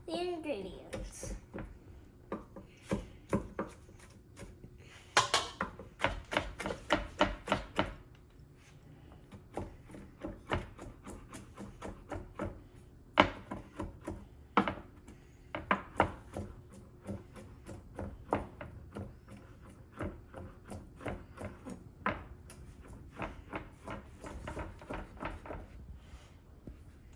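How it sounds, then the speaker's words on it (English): Tofu, bok choy, carrots and rice noodles being minced with a knife on a board, a faint, steady run of quick chopping taps that goes on throughout with brief pauses, while someone talks over it. "Then, you mince the ingredients."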